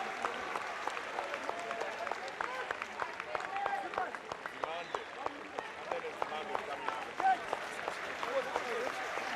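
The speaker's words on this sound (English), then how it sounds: "behind us, the Glenwood crowd are also applauding for Zimande, and rightfully so" A crowd at a Glenwood High School vs Maritzburg College schoolboy rugby match applauds with dense, continuous clapping, and speech can be heard over it.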